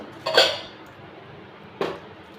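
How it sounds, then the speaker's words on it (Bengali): Dish set as a lid over a bowl in a home kitchen: two separate clinks of crockery, a sharper knock followed later by a lighter tap, close and distinct over quiet room noise. "দেখুন আমি এটাতে একটা ডিশ ঢাকা দিলাম"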